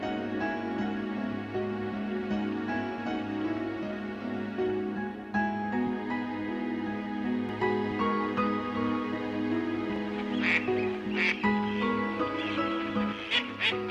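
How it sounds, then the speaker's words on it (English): Three mallard ducks sharing a winter canal with swans quack intermittently, with several short honking calls clustered toward the end over a steady low background hum outdoors. "Sharing the territory with the swans were 3 mallards who were also hopeful that we would feed them."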